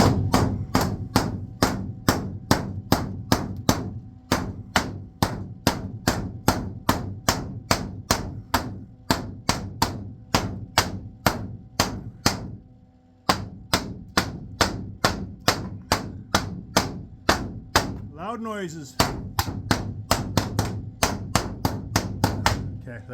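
A hammer and dolly flatten the flange on a Ferguson TEA20 or TO35 tractor, giving a long run of sharp, ringing metallic strikes at a steady rapid rhythm. They are loud and close, with a short pause partway through and a brief spoken remark.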